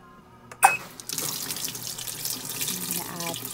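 Running water pours steadily into the tub of a Giantex portable washing machine after a brief click, a continuous close splashing rush that holds at an even level.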